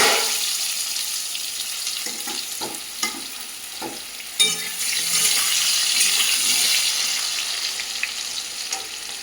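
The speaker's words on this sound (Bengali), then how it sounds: "তো দেখো ভাপ দিয়ে নেওয়া আলুগুলো একটু তেলে ভেজে নেব" Steamed potatoes fry in hot oil in a pan, giving a steady close sizzle with a few stirring scrapes and clinks, and the crackle swells slightly midway.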